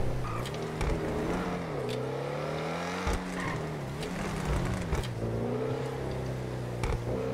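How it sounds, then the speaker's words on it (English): Powerful supercar engine in GTA 5 revving and surging, with rising and falling pitch sweeps, brief tire squeals and a steady loud drone throughout, no talking. "Oh my god, this car is so powerful."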